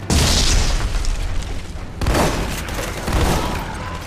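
Grenade explosions and gunfire from the Army of Two: The Devil's Cartel video game, with three heavy booming blasts in quick succession over crackling shots, loud and close.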